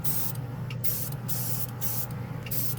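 Casubaris portable airbrush kit spraying paint in a continuous close hiss, with short rhythmic gaps as the trigger is pulsed three or four times.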